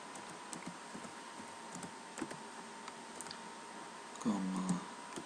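Column names being typed on a computer keyboard: a quiet, uneven run of light key clicks at close range, with a soft low sound near the end.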